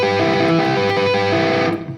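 Distorted electric guitar sweep picked sloppily, its notes smearing and bleeding together into a dense, muddy wash instead of separate notes, loud and unbroken for about two seconds before cutting off.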